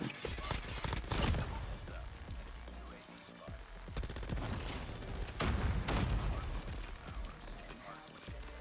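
Gunfire in the mobile shooter Call of Duty Mobile, including an MG82 machine gun, with dense repeated shots and bursts throughout while someone talks over the action.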